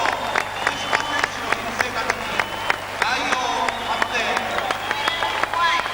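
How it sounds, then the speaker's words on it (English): Warm crowd applause in an arena at the 1995 Judo World Championships, scattered clapping and crowd noise with a commentator talking over it. "There's warm applause for the spirit shown by both contestants."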